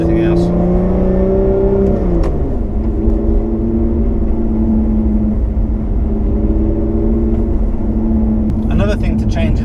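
A Lotus Evora 400 sports car engine drones loudly and steadily, its pitch dropping and settling as the exhaust burbles, with faint clicks near the end.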